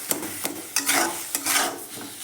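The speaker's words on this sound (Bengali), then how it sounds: "ততক্ষণ পর্যন্ত আমি নেড়ে যাব ফুলকপিতে।" Spiced cauliflower filling for kochuri frying in a pan while being stirred, with repeated scraping strokes of a spatula over a soft, continuous sizzle, close and moderately quiet.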